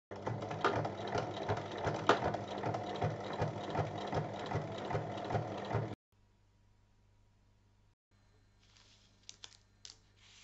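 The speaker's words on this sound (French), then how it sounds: "Il faut piquer sur trois côtés et au milieu pour diviser en deux compartiments." A sewing machine stitches fabric for a mug bag, steady rapid whirring and clatter for about six seconds, then stopping abruptly into near silence broken by a few faint clicks.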